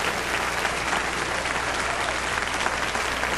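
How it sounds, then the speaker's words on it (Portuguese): A church congregation applauds at a Brazilian Portuguese worship service, a dense, steady wash of many hands clapping that fills the clip at an even, loud level. "Aplausos para Deus agora."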